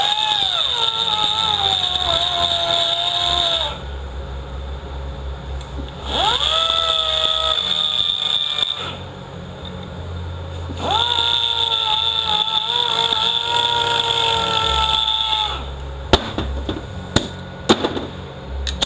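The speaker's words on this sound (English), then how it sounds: "So I just take a little die grinder" A small die grinder buffs the edge off a bushing during a 42RLE transmission rebuild, running in three long bursts that each spin up to a steady, close, high whine, with brief clanks after the last run.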